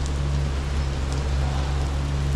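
Steady rain falling on a city street in Porto, Portugal, a continuous even hiss with a low constant hum beneath and no speech.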